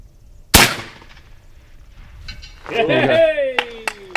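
A single sharp gunshot cracks out while shooting at distant targets, followed by talking and a couple of faint distant ticks.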